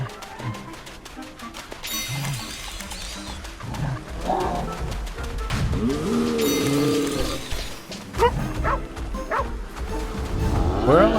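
Dogs in a video game bark and growl repeatedly amid loud animal cries, bird sounds and game effects, with a person talking over the chaos.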